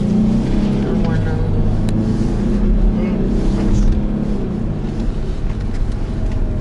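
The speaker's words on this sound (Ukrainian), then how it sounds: "Залишилось тільки турбіну спробувати, як вона надуває." Turbocharged pickup with a Chrysler 45RFE four-speed automatic accelerating, its engine a steady, loud low drone with turbo boost building, heard from inside the cab.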